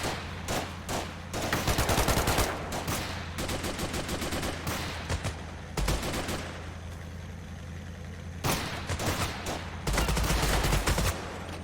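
Heavy gunfire in a modern army squad-based strategy shooter game: dense, sustained bursts of rifle and machine-gun fire with overlapping shots, near and loud, in waves that briefly ease and then surge again.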